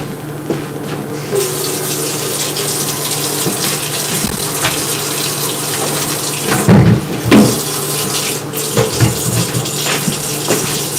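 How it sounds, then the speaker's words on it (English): Cooked spaghetti and water are poured from a pan with a front handle into a sink strainer and rinsed, giving a steady, close running-water rush with a few louder splashing surges. "Put them in the strainer and rinse. Well, I'm gonna put them in the sink strainer."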